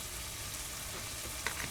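Tortillas frying in a pan make a steady, quiet sizzle, with a couple of small pops or clicks near the end.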